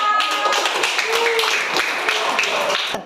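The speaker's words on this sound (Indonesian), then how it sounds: "Ya, tepuk tangan untuk Bapak." Classroom clapping for a participant in an elementary school lesson, a steady run of near, dense hand claps from a group of pupils lasting about three seconds, with voices mixed in.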